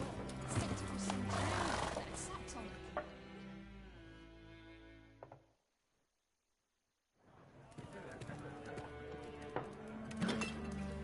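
Roach, the horse in The Witcher 3, neighs and whinnies loudly, with snorts and hoof clops nearby. The sound breaks into a short near-silence, then returns with more horse noises and game ambience.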